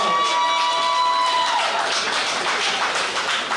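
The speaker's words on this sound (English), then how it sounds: "Another round of applause." Crowd applause and cheering at an NFL Men in Black honoree award event, steady and dense throughout, with a fading tonal hum early on.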